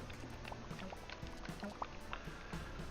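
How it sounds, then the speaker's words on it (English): Rushing water in a video game makes a steady, low gurgling wash with small drip-like splashes, continuous and moderately quiet. "This better not be rushing water."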